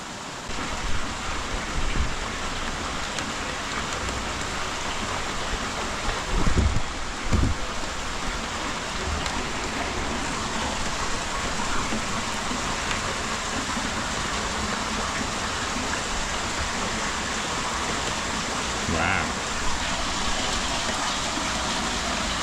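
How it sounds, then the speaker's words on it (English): Rain falling on the roof of a firewood shed: a steady, loud, hissing patter that continues unbroken throughout, with a few heavier thuds partway through. "Rain is actually good, you know."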